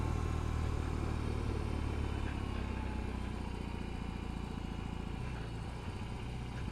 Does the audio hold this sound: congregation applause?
no